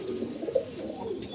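Pigeons in a loft where they are laying eggs and raising young give soft, low cooing calls in a few rolling phrases, close and fairly quiet, with no talking.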